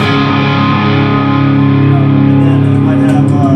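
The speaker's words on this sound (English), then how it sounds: "I usually always have that reverb on." Electric guitar played through a reverb pedal, heard loud and sustained with dense, distorted ringing harmonics that wash and trail over several seconds, with no talking.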